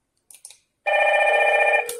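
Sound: Hikvision IP intercom indoor monitors ringing

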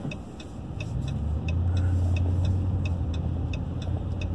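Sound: car driving through downtown Griffin

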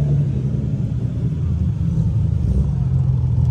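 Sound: BMW M240i racing a turbo Nissan 370Z

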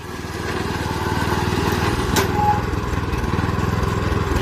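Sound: tracked dump truck with Mitsubishi 7 hp petrol engine reversing

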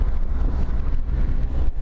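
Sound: strong wind

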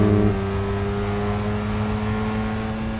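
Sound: Mazda RX-7 drifting in video game Need for Speed Underground 2

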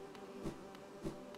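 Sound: bee buzzing in the video game Hollow Knight

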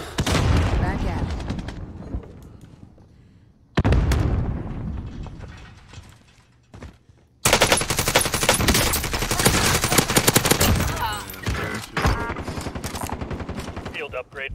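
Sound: gunfire in video game Call of Duty: Warzone

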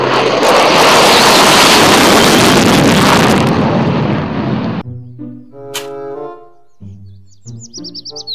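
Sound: toy fighter jet

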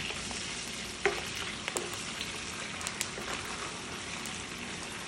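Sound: garlic ginger paste frying in oil

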